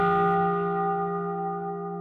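Guitar harmonics played to mimic a bell: a single bright, sustained chime-like tone with several clear overtones, ringing alone and slowly decaying over about two seconds.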